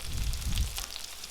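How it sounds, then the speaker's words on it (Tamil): Cumin and pepper sautéing in a pan as the base for a sankara fish curry, giving a steady, low-level sizzle and hiss that holds evenly throughout, with no voices. "இதை ஒரு 5லேருந்து 7 நிமிஷம் போல் நல்லா வதக்கிக்கலாம்"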